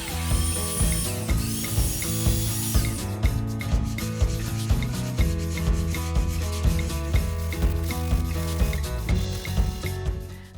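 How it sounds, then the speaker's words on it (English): Wooden baseboards are sanded by hand to smooth rough edges, a steady, rhythmic back-and-forth rubbing under prominent background music, with no speech. "Now, sand down the baseboards to get out any rough edges."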